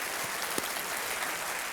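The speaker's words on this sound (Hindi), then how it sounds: "इनका जोरदार तालियों के साथ एक बार फिर से स्वागत मैं करता हूँ" Steady, dense applause from a TV game show studio audience on Kaun Banega Mahacrorepati, a continuous wash of clapping that holds at an even level throughout, with no voices above it.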